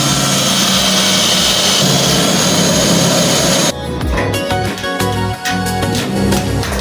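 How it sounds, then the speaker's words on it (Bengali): A power tool whines loudly while tightening screws and nuts on a sheet-metal tank, first as a steady high drone, then in a choppier stretch of pulsing, rattling bursts, with no talking. "টাইট দিতেছে, স্ক্রু লাগানো শেষ।"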